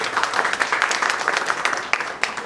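Applause from a community gathering visiting Delhi Jain temples, a crowd clapping in an uneven patter with louder individual claps standing out, fairly close.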